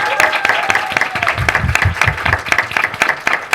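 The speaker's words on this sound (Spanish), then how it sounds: "un aplauso gigante aquí para nuestros ponentes" Audience applause for the speakers of an undergraduate literature colloquium panel, a dense patter of clapping that stays steady for a few seconds, with a voice faintly underneath.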